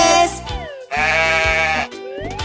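A goat gives three loud, close, wavering bleats in quick succession, each a nasal, quavering cry with short pauses between, with no talk.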